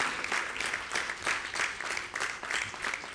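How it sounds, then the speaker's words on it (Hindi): A crowd at an official event applauds to welcome Minister Piyush Goyal, continuous moderately loud clapping that swells and dips in waves without any voices. "जोरदार तालियों के साथ स्वागत कीजिए।"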